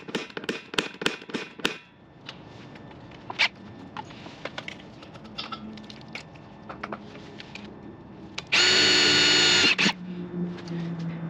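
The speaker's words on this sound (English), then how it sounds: "we'll drill all 4 holes" A power drill whirs in a series of quick bursts while drilling mounting holes near a propane tank on a camper trailer, then one sustained, louder run, with scattered clicks and handling noise between.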